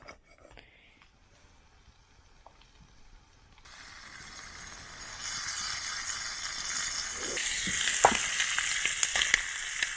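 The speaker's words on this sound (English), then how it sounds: "Cooking bacon and eggs on the fire." Bacon and eggs fry over a campfire outdoors, a quiet start giving way to steady loud sizzling and popping crackles that grow stronger toward the end.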